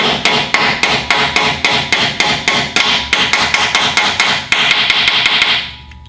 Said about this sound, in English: now we're gonna go ahead and hammer the locking pins into place